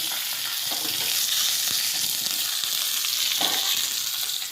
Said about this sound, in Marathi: थोडंसं तेल गरमला ठेवलेलं आहे त्यात थोडीशी जिरे मोरी घालायचं थोडंसं हिंग घालायचं आणि कढीपत्ता आणि वाळलेली मिरच्या टाकायची थोडेसे आणि असं तडका करून